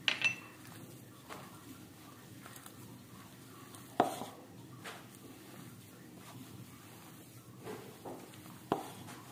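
Egg and chicken donut batter with rice flour and oil being mixed in a bowl, heard as faint soft scraping and stirring with a few sharp clinks of a spoon against the bowl.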